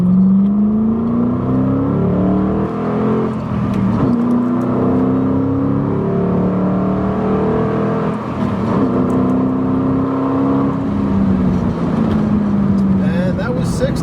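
A 2005 Ford Mustang GT engine revs hard through rising gears, pitch climbing then dropping at each shift, loud and close throughout.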